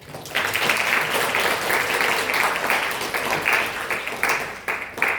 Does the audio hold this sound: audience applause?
yes